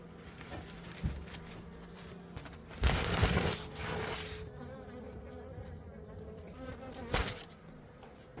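Honey bees buzz around a wooden beehive box in a hillside village after the monsoon, a steady nearby hum with louder swells as individual bees fly close past.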